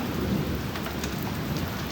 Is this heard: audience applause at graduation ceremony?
no